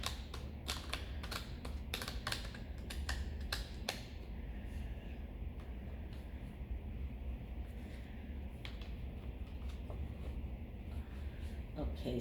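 Tarot cards shuffled by hand in a steady run of quick riffling clicks and snaps, dense and close in the first few seconds, then continuing more softly over a constant low background hum.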